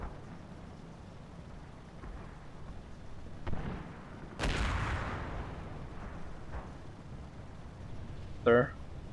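A gun fires in the Combat Mission Red Thunder war game with one loud, booming report that decays into a long rumble. Fainter distant thuds come before it, and someone talks over the battle sounds.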